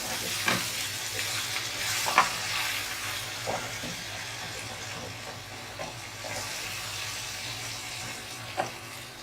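Masala being stirred and fried in a pan before keema is added for stuffed capsicum: a continuous moderate sizzle broken by repeated spoon scrapes and clinks at irregular intervals, close by with no speech.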